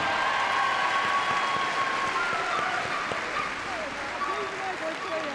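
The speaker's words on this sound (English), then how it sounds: "a big round of applause, please" Audience applause after a dog agility run, a steady wash of crowd clapping at moderate distance with a voice talking over it and faint tonal sounds in the background.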